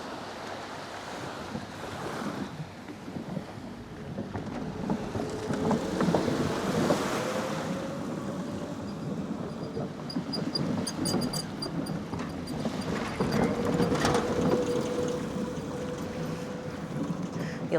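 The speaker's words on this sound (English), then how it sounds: "Oh, listen to that water, you guys." Ocean waves wash continuously along a Maldives resort shoreline, a broad rushing surf with wind noise, swelling and easing over time, with faint distant mechanical tones now and then.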